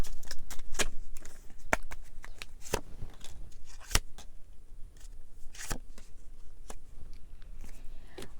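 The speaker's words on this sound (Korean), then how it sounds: "그럼 양자리 분들 한 주간 필요한 이 관계를 위해서 필요한 조언 카드 뽑아볼게요." Tarot cards are handled and drawn in a quiet room, giving sharp, irregular snaps and flicks at varying intervals with soft rustling between them.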